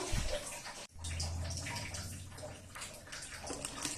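Custard mix is poured over bread for Arabian pudding, producing a soft close liquid splash and gurgling stream after a brief pause, running continuously with some dripping.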